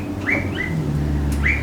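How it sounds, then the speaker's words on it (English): Honeyeater birds call outdoors with a few clear, rising whistled notes spaced apart over a low steady background hum. "Honey eaters sound like they're enjoying that honey."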